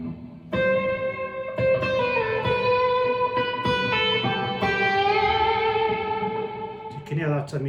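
Clean electric guitar notes through an iSET Cube Baby multi-effects pedal with reverb at maximum, each pluck blooming into a long, washy tail, with a quick strum at the end.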